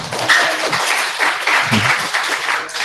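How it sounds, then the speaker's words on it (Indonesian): Applause from an audience at a thesis-writing workshop held at an Islamic boarding school in Semarang: dense, continuous clapping from many hands filling the room at close range, steady for the whole stretch. "Ya, beri tepuk tangan terlebih dahulu."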